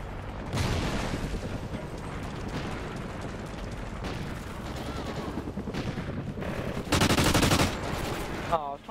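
Video game battle gunfire crackles in rapid bursts, with machine-gun fusillades and booming impacts coming in uneven waves, a loud burst near the end, and voices talking in the mix.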